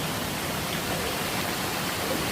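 Water of Ladai waterfall crashes down from a height in a continuous, dense hiss and roar, steady and close, with no voices or other sounds breaking through.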